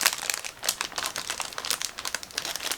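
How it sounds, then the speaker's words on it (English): A sealed plastic bag holding Zvezda 1/35 M4A3 (76) W Sherman model kit parts crinkles and crackles as it is cut open, a close, continuous run of sharp rustling bursts with no voices. "So just give me a second to cut through this plastic bag."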